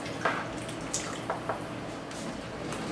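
Pears are lifted out of cold lemon water with a slotted spoon and dropped into syrup, giving a few faint drips and soft splashes in a quiet kitchen.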